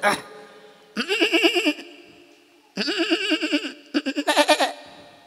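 A person imitates a goat, giving three wavering, nasal bleats separated by short pauses, close and fairly loud.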